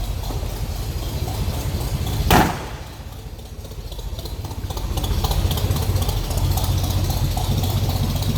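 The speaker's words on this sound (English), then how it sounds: "Nice little rumble out of that V8. Chevy 350 underneath the hood." Chevy 350 V8 idling in a 1962 Chevrolet C10 stepside pickup with dual exhaust, a steady low rumble up close, interrupted once by a sharp thump like a door, then continuing evenly.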